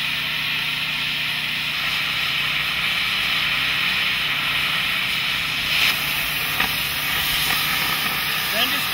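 A Petrogen torch flame hisses steadily while preheating metal for a pierce cut, a constant broadband roar heard close and loud throughout.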